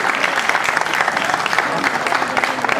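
Audience at an award ceremony on a Pakistani stage show bursts into steady, dense applause, a close and continuous burst of clapping lasting a few seconds.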